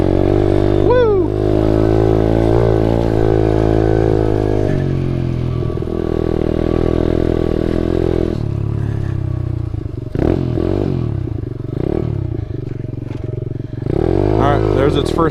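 SSR125 pit bike ridden on a dirt trail, its small engine revving up and down close to the microphone with clattering and a brief whoop of a voice.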